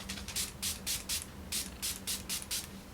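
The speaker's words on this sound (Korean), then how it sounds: "다음은 달바 화이트 트러플 바이탈 스프레이 세럼" A d'Alba White Truffle Vital Spray Serum mist bottle sprays about nine short, crisp bursts in an uneven rhythm, close and fairly soft, alone with no talking.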